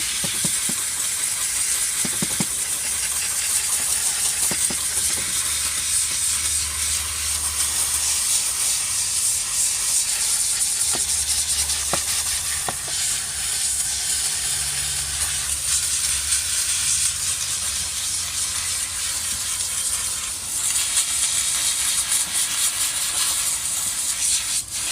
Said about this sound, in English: Going to get our steam and see if we can loosen up these a little bit more.